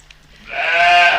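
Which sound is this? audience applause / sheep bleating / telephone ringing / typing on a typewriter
sheep bleating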